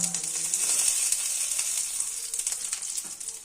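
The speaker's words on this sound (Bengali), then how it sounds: "এবার লঙ্কা দিলাম" Green chillies sizzle in hot oil with cumin seeds while fish curry is being cooked, a steady, loud frying hiss that fills the whole clip with small crackling pops throughout.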